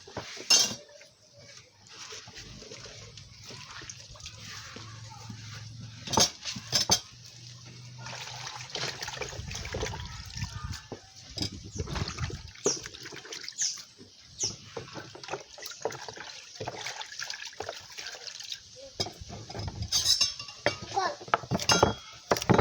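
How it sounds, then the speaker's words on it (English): A coconut is washed by hand in water in a village kitchen, with splashing, sloshing and clinks of a container, soft and intermittent, while a person talks at times. "So I'm going to wash this coconut."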